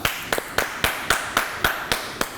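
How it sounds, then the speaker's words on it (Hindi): On a talk show stage, a few people clap in a slow, even rhythm, about nine distinct claps spaced evenly over two and a half seconds, fairly close and with no talk. "तालियां।"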